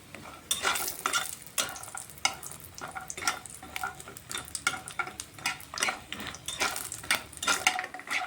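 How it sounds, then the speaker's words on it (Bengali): Bori, lentil dumplings, fry in a pan of oil with a continuous crackling sizzle, while a utensil stirs and scrapes against the metal in repeated close strokes. "এখন বড়িগুলি আমি লাল লাল করে ভেজে নিচ্ছি"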